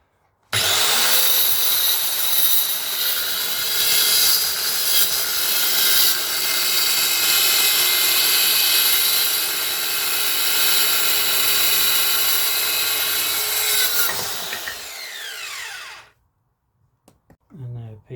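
A Guild 500W mini saw cuts through a piece of MDF, a loud, steady high-pitched whine lasting about fifteen seconds before stopping abruptly, leaving near silence.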